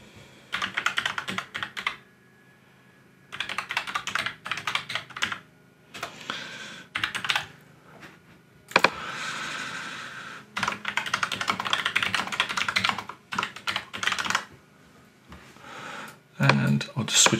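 Bursts of rapid clicking from a computer keyboard as a website URL is typed in, close and fairly loud, broken by short pauses between runs of keystrokes.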